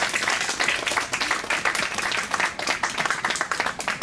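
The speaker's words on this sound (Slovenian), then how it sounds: "Izjemno lepo zaploskamo." An audience at a Slovenian literary event applauds warmly, a dense, even patter of many hands clapping for several seconds without a break.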